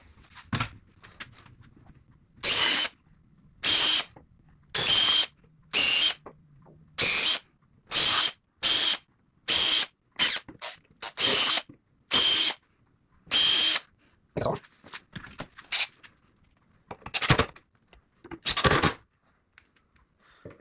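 A power drill driving new screws into a mesquite table top, heard as about a dozen loud, separate whirring bursts of around half a second each with short gaps between, close by, followed by a few softer, shorter bursts and handling clatter.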